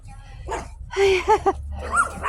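Small dogs barking and yipping at a woman walking her dog past a spring garden, a few sharp close barks and whimpers outdoors, with a person talking in between.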